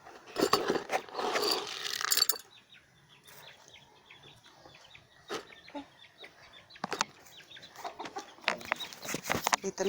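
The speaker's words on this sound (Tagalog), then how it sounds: "Dito naman tayo sa ating mga sisiw." Chickens and chicks clucking and cheeping at feeding time, scattered close calls and peeps with louder bursts at the start and end, among rattling mechanical clicks and some human voices.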